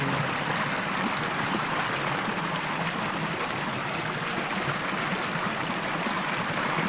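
Clear spring water rushes in a stream at Gokal Dev in Balochistan, a steady, close, full-bodied flow with no talk over it.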